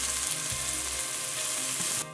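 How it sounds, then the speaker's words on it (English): Onions, hot or pimento peppers and chopped garlic sauté in a pan until light brown, giving a steady, close, dense sizzle with no voices. The sizzle runs evenly throughout, then drops away sharply just before the end. "Saute until the onions and the garlic are light brown in color."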